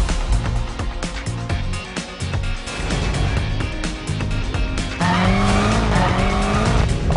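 BMW M5 lapping the Nürburgring: a loud engine note climbing and dropping through gear changes with tire noise, steady and close, sounding from inside the car over background music.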